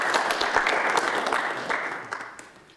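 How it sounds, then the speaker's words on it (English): An audience at a South West London ICP board meeting gives a round of steady applause in a room, the clapping dense and even before tapering off toward the end. "So, round of applause for Annette and John, please."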